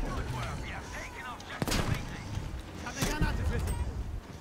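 Gunfire and explosive blasts from a tank fight in the video game Battlefield V, with two sharp loud bursts standing out over a steady busy battle din and someone talking throughout.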